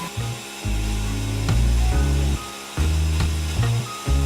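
A power tool machines a sink cut-out in a kitchen countertop, its loud steady whine rising and falling in pitch as the cut progresses, with no talk over it.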